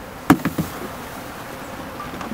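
Honeybees buzz as a hive box holding the queen and marking workers is bounced, with three sharp thumps close together near the start and then a low, steady hum.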